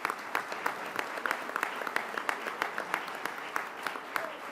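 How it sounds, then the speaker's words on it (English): A breakfast audience of mayors and business leaders gives a round of applause, a steady, moderately quiet patter of many hands clapping throughout, heard from a distance in a large hall. "Let's give them a nice round of applause."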